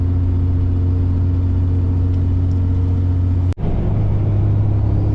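A car cruising on the interstate at speed, with a loud, steady engine and road drone that holds throughout, broken by one brief dropout near the end, and no voices.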